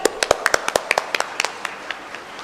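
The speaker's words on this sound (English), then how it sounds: "Give it a huge round of applause for Abhigya Dee." A small audience at a university orientation day claps in separate, distinct claps rather than a dense roar, and the claps thin out and fade over a couple of seconds.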